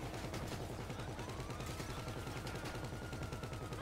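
Rapid, continuous gunfire rattles nonstop in Grand Theft Auto V, dense and steady throughout with no speech.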